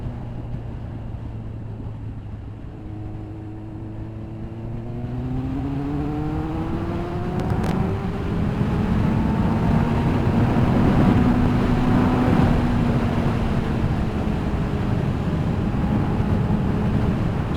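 A Kawasaki ZX9R motorcycle engine drones and rises in pitch through a run of gear changes, its tone climbing steadily and then holding high and loud, close by, with no talking.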